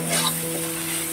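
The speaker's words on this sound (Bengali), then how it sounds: "এই তো ডিম তো রান্না করছি" Eggs fry in an oiled pan, giving a brief, steady, close sizzle with a faint underlying hum.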